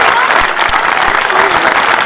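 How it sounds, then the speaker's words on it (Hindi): Loud, dense clapping from a poetry gathering audience at a kavi sammelan in Dalli Rajhara, steady and close throughout the short stretch, with murmurs of the crowd underneath. "एक बार आसमान तक तालियां बजाएं"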